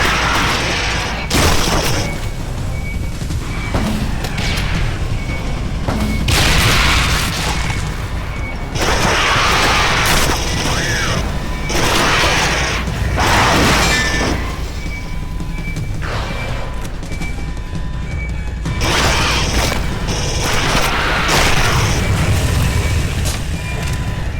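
Gas canister explosions in the Aliens vs Predator video game, a run of loud bursts and crashing blasts repeating across the stretch over dense, continuous game noise.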